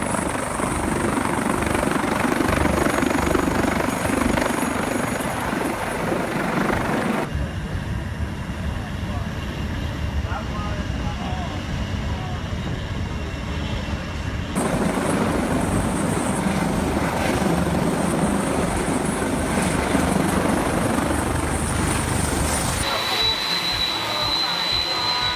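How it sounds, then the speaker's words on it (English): A Boeing 747 taking off at Heathrow Airport roars overhead, a loud sustained broadband engine rumble that dips in the middle and swells again, with excited voices over it. "A Boeing 747 roared overhead while taking off"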